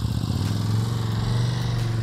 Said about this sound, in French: La moto est partie.